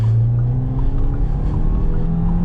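A Fiat Pulse Abarth's engine pulls hard up a hill, a loud, steady close-up drone that stays strong throughout, with low harmonics slowly rising as the car gathers speed.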